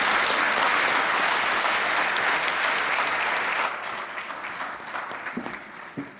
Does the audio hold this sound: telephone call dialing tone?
no